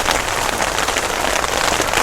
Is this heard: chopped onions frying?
no